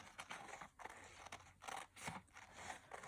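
Scissors snipping through a paper flower pot template, close up, with repeated crisp cuts in an uneven rhythm and small rustles of paper between blade closes, no talking.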